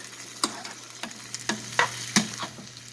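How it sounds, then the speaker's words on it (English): Shrimp in tomato sauce simmers in a pot on a stove, a quiet bubbling with a handful of soft pops and taps spaced irregularly over a low steady hum. "I'm allowing it to simmer a little bit"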